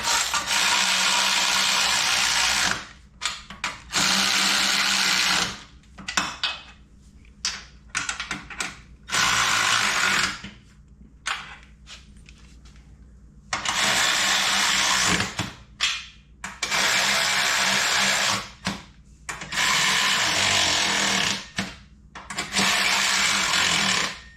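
A power tool snugs bolts during a hydraulic steering kit install on a Can-Am Maverick, with loud ratcheting bursts of a few seconds each, separated by brief silences and repeated throughout.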